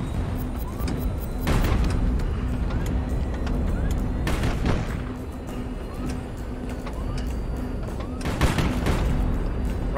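Warships open fire in the HighFleet video game, heavy booming cannon blasts landing in a few loud bursts over a dense rumbling battle din.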